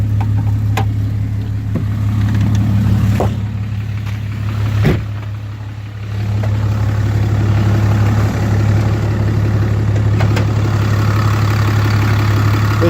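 A 2008 Dodge Ram 2500 HD 4x4 with a 6.7 Cummins turbo diesel, deleted and fitted with an aftermarket exhaust and cold air intake, idles with a steady low rumble and a brief dip in level midway.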